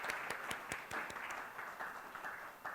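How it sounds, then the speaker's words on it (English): Faint, sparse clapping at a medical conference, a few distinct hand claps spaced irregularly over a quiet hall, soft and distant. "please welcome Dr. Paresh Mehta with a huge round of applause."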